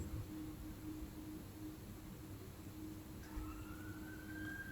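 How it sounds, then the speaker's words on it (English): A faint, distant siren rises in pitch toward the end over a low, constant rumble of traffic. "hope that siren's not coming for me."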